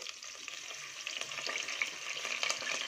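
Washed rice dropped into hot ghee, a dense close hiss of frying with a faint crackle of stirring, steady and slightly building over a few seconds, no talking.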